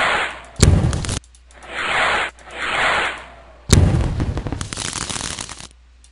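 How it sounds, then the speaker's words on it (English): Fireworks burst in a McDonald's Ronald video game: several sharp electronic pops followed by swelling crackles and whooshes, then a longer dense barrage of crackling bursts that fades out, loud and close. "Oh yeah, fireworks!"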